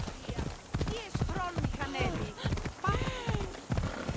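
Horse hooves clip-clop in Assassin's Creed Odyssey, a steady rhythmic trot running under continuous game dialogue and talk throughout.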